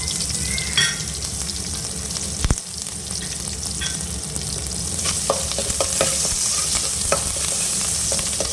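Onion, green chillies and curry leaves frying in oil while being stirred for a brinjal gravy, a continuous bright sizzle with repeated scraping and clinking of a spoon against the pan, no talk.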